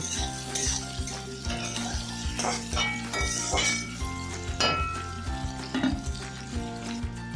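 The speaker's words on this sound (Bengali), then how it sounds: "দিয়ে দিলাম কুচিয়ে রাখা পেঁয়াজ দিয়ে খুব ভালো করে নেড়ে চেড়ে আমি পেঁয়াজটাকে লাল লাল করে ভেজে নেব" Chopped onions sizzle in hot oil in a pan while a spatula stirs and scrapes them in repeated clinks, over a steady frying hiss with soft music playing underneath.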